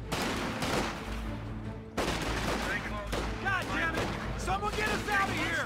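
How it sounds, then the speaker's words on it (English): Dense gunfire from a Company of Heroes 2 battle, with rapid machine-gun bursts and overlapping rifle cracks at mid-distance, while a commentator talks throughout. "Quite a bit of fire behind that bush."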